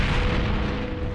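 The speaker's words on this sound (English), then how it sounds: "They brought up artillery!" Cartoon artillery fire from a Revolutionary War battle at Breed's Hill, heard as a loud, dense, continuous rumbling boom that fills the short moment with no voices over it.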